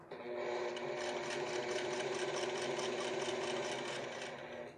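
A sewing machine stitches the collar edges of a Cuban collar vacation shirt in one continuous, even run of close, rapid needle strokes lasting nearly five seconds.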